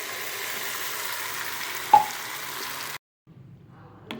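Coconut chutney poured into a hot tempering of dried red chillies and curry leaves gives a steady, close sizzle with a brief stir clink, then falls silent before a faint crackle returns.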